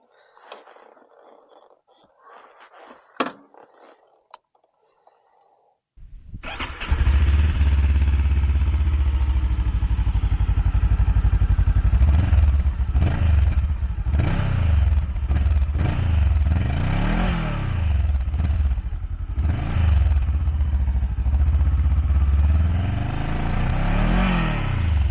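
A 2023 VOGE 525 DSX motorcycle engine cranks to life after a few quiet seconds of handling noises, then settles into a loud, steady idle with a throbbing beat and a few brief revs, close up.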